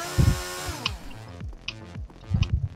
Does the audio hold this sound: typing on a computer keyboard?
no